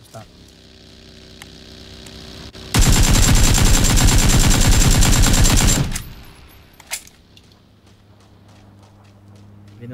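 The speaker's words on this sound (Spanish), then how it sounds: "Ahí escucho disparar." Rapid automatic gunfire in PUBG, a loud sustained burst of dense, evenly spaced shots lasting about three seconds, then quieter ambient noise with a few isolated clicks.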